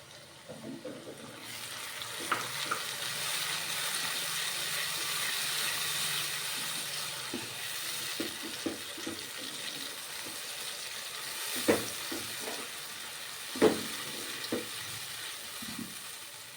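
Onions and tomatoes fry in a pan with an even, low sizzle and steamy hiss, marked by occasional sharp clatters of a spoon stirring against the pan.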